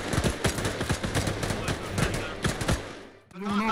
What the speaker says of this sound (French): Allez-y, tirez à volonté.